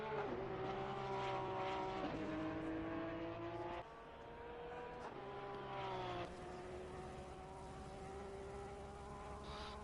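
Porsche Cup race car engine in a PS4 racing game at Paul Ricard, a steady high whining drone that shifts pitch in distinct steps as gears change, close and continuous with no talk.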